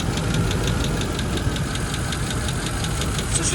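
A Land Rover Discovery II with a bad engine runs with a steady, close, rapid knocking tapping over a rough mechanical drone, continuous throughout with no talk.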